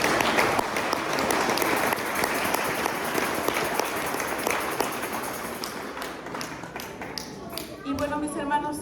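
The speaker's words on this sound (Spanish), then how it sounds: "Den un aplauso al Señor, por favor." Church congregation applauding together, a dense sustained wash of many hands that thins toward the end as a voice begins to speak over it.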